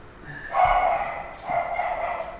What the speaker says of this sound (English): I'll just let them bark